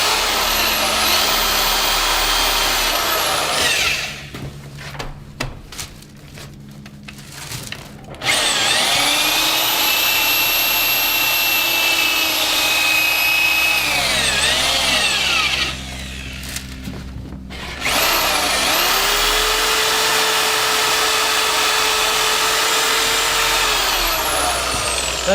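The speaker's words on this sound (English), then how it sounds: "Now this is a rotary sanding drum," A power drill spins a rotary sanding drum in long steady whining runs, broken by two quieter gaps, loud and close with no talk.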